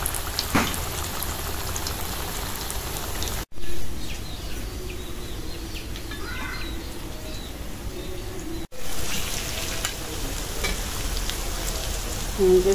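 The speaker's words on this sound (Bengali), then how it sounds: "অল্প জালে ভাজলাম" Raw banana koftas frying in oil over low heat give a steady, dense sizzle with faint crackle running through, close and even, interrupted by two brief dropouts.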